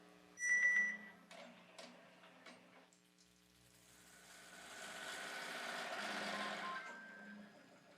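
An embroidery machine with a fast-clamp upgrade stitches a Christmas stocking, a faint, soft mechanical hum rising and holding steady, with a few small clicks and taps near the start.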